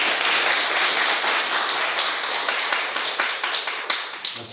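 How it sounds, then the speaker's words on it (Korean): A church congregation applauds in welcome during a Sunday service, a dense, steady wash of many hands clapping that holds for several seconds and thins toward the end, with no talking over it. "한번 같이 환영의 박수."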